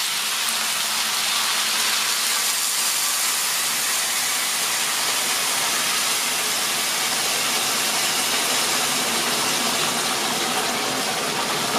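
A steady, loud hiss and sizzle as water is poured into a hot pot of browned pork ribs continues without a break, with no talking.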